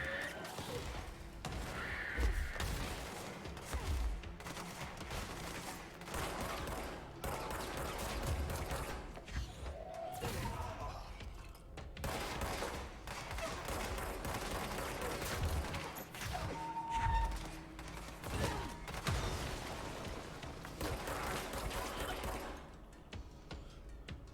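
Gunfire in the video game Control, rapid bursts of shots and sharp mechanical clatter repeating through the stretch at moderate loudness, mixed with crashes and impacts, with no clear talking.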